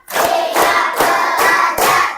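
A crowd claps in five quick successive bursts, each a short cluster of sharp hand claps, loud and near, as part of a counted rhythm game.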